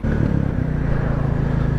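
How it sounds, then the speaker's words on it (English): Deep, steady idling thump of a Royal Enfield Classic 350 single-cylinder exhaust, close and loud, with a regular low rhythmic pulse and no talking. "It's just got a nice old school rumble."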